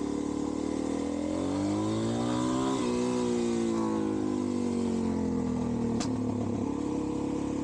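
Suzuki DRZ400SM motorcycle fitted with a 12-tooth sprocket, ridden across a bridge, its engine revving up and down through steady sweeping pitch changes, close and continuous with wind rush, no talking.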